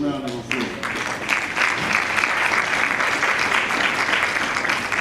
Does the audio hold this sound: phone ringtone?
no